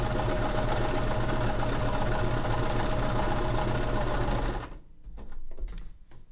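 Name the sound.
sewing machine stitching fabric for a cinch pouch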